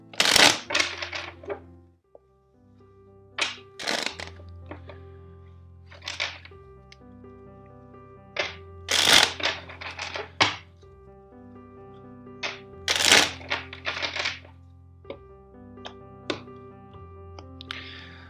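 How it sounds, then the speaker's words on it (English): Tarot cards being shuffled during a reading, with several bursts of crisp riffling and slapping separated by quiet gaps, close and fairly soft, along with faint taps and shuffling sounds. "let's first shuffle four times."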